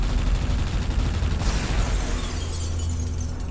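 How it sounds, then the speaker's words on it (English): Spaceship weapons fire at an ancient jar in Everspace 2, a dense, loud rapid burst of shots with a sharp shattering crack partway through, sustained and close with no talk. "First off, let's try shooting the thing."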